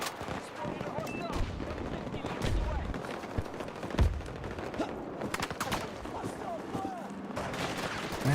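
Gunfire rattles through a Battlefield match in repeated bursts and single shots, moderately loud and partly distant, under a player talking over it.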